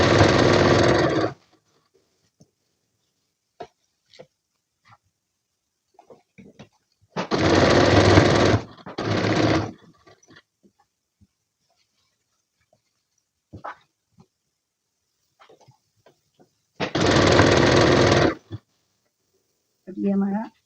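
A sewing machine stitches trouser fabric in three short, loud bursts of about one to two seconds each, separated by long quiet gaps filled with faint handling clicks.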